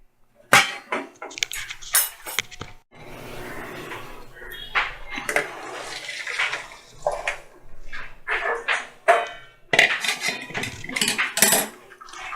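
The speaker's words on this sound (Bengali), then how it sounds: "এইভাবে একটা ছাঁকনির মাধ্যমে এটা ছেঁকে নিতে হবে।" Boiled noodles being strained through a metal strainer in a pan: bursts of metallic clattering and scraping mixed with splashing water, close and uneven, with short quiet gaps between.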